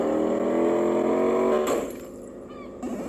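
Monster truck engine in a stunt video game, a loud steady revving drone for about a second and a half, then cutting off and dropping to a quieter background hum.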